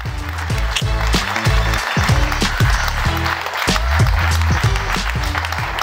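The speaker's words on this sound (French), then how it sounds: "avec ces beaux applaudissements" A studio audience applauds at a live television show in Mulhouse, a dense, steady wash of clapping that stays loud and close throughout, with no one speaking over it.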